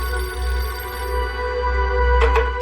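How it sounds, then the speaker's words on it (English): A telephone bell rings in a home kitchen at breakfast time, a couple of ringing bursts standing out clearly over a steady low hum, with no voices. "our phone rang"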